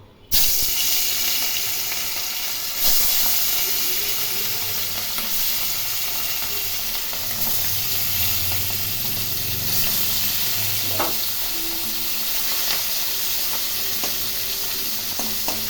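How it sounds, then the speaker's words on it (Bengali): Steady hiss and crackle of hilsa fish pieces frying in hot oil, continuous and close, with occasional clinks of a utensil and no voices. "হালকা করে মাছগুলো ভেজে নেব"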